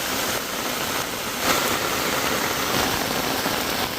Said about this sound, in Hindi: बारिश अभी भी कंटिन्यू बढ़ती जा रही है भाई, रुकने का नाम नहीं ले रही है।